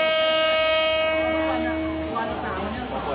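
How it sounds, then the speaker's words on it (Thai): A train rolls along the tracks through the Maeklong railway market in Samut Songkhram, a loud sustained horn blast over a rumbling, clattering approach, with a voice talking faintly beneath. "ก็มีรถไฟวิ่งมา"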